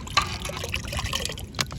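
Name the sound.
water being poured into palm fruit (nungu) sarbath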